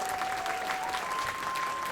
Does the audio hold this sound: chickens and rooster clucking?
no